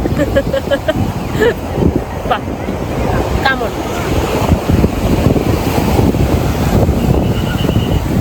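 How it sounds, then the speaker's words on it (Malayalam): Steady roar of big waves crashing at Alappuzha Beach and wind buffeting the microphone, with a voice speaking faintly in the background. "വലിയ തിരമാലയാണ് ഇവിടെ."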